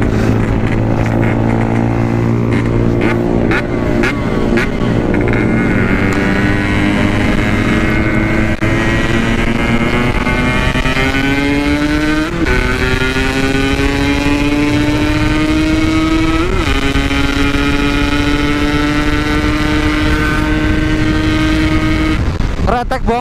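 A Yamaha RX King motorcycle on a night ride runs loud and rough, its engine note climbing steadily through gear changes with brief dips between pulls, heard close and continuous.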